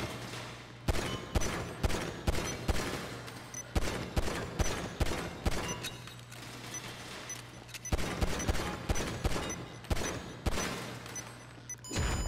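Rapid gunfire at shooting range targets in Grand Theft Auto V, loud, sharp shots in quick bursts and steady volleys over a low constant hum, with brief pauses between strings of fire.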